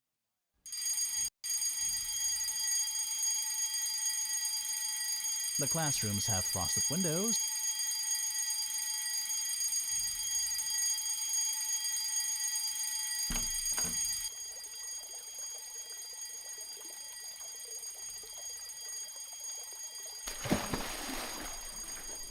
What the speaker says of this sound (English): As the fire grows, the fire alarm goes off.